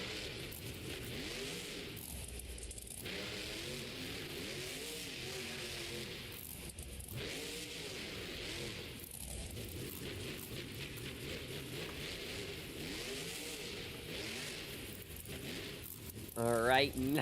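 Grave Digger monster truck at a Monster Jam freestyle arena show, engine roaring steadily with revs rising and falling throughout, loud and continuous under an announcer's voice and crowd noise.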